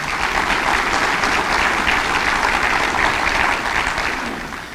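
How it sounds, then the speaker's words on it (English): An audience at a 2016 State of the City address gives a dense, loud round of applause that holds steady for several seconds and then starts to fade at the end. "he deserves a round of applause, yes."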